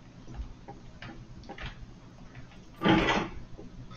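Drawer sliding open in the Roblox game Doors, one short scraping burst after soft ticking and quiet taps, fairly close and clear against a hushed background.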